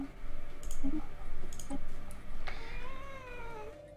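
A house cat meows once in a rising, drawn-out call near the end, close by, with faint clicks and room noise before it.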